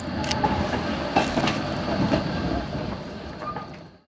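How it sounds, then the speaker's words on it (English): A brand new Melbourne G-Class tram rolling along new depot track with a low rumble and faint clicks, smooth and quiet, steady and fairly close, fading away at the end. "the brand new tram on the brand new depot track was extremely smooth and quiet"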